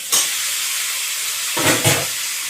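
Chicken meat hits a hot pan with a loud burst of hissing sizzle, settling into steady frying, then another bubbling flare-up near the end as the pieces are moved.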